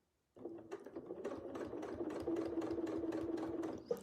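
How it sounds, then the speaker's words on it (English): A sewing machine runs steadily while free-motion quilting, a continuous close mechanical whir with rapid needle stitching that starts abruptly and carries on for several seconds without talk. "Taking a couple of stitches to check it, make sure that I'm not out of tolerance, and then stitching down to the bottom"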